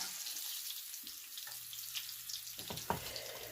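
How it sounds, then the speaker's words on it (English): Pork schnitzel sizzles and crackles in hot vegetable oil, a continuous bright hiss with a few louder pops toward the end. "You can see it sizzling."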